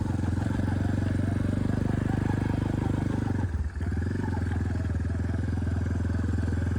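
A lifted red motorcycle on a test ride runs with a steady, loud engine drone that stays close, briefly dipping mid-ride before settling back into the same throaty rumble.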